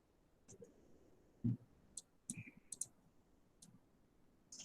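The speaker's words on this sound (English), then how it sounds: "Again, I'm clicking this add, and then I'm adding Einstein" Quiet computer mouse clicks, a handful of sharp, irregularly spaced ticks over a faint background hush, with no talking.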